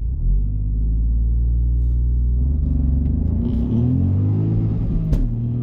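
A facelifted Ford Puma ST hot hatch launches hard from standstill with ESP in sport mode, its engine loud and close, climbing steadily in pitch before a quick gear change near the end.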